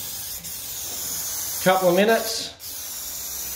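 A spray pack applies top coat to a laundry tub with a steady, close hiss that runs throughout, while someone speaks briefly in the middle.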